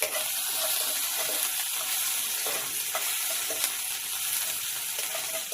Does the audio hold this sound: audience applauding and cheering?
no